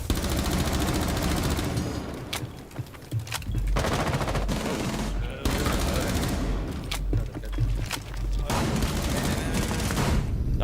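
Rapid automatic gunfire bursts from the Rainbow Six Siege video game crackle almost continuously at close range, broken by a few brief pauses and single louder booms.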